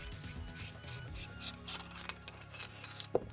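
The base of an Acetech Acehive 40mm airsoft grenade is unscrewed by hand, a soft gritty rubbing and faint ratcheting of threads up close, with a couple of small clicks and a light knock near the end.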